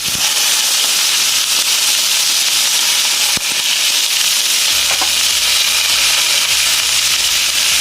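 Food sizzles and fries steadily in a pan while monggo (mung bean) stew with malunggay and tomato is cooked, a loud continuous hiss with occasional pops and crackles close up, no talking.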